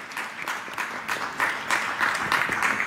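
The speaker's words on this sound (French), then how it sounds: "Je crois qu'on peut applaudir Michel Ducasse pour ce très belle traduction" Audience applause after a poetry translation reading at a café event, a short burst of many hands clapping at moderate volume, with uneven pulses over about three seconds.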